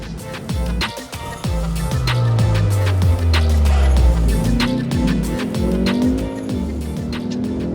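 A Kia Stinger coupe engine roars and revs close by, pitch sweeping down and back up through gear changes, with clicks and rattles throughout.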